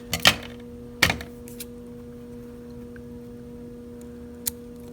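Scissors snip crochet yarn with two or three quick, crisp cuts near the start, then a faint click later, set against a steady low hum with no talking.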